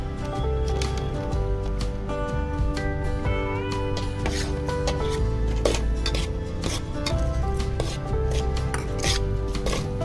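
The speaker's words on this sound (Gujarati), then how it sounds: "અને ધીરે ધીરે તેમને હલાવતા રહીશું." Carrots are stirred slowly in a pan while Maggi noodles are made, giving quick metallic clinks and scrapes under steady background music.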